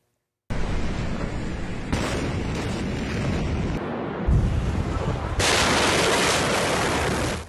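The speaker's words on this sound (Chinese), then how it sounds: "黎巴嫩首都贝鲁特港口仓库区猛烈爆炸" A massive explosion in the warehouse district of Beirut's port, heard as a loud, continuous, roaring broadband rumble that holds for several seconds with sudden shifts in intensity and no voices.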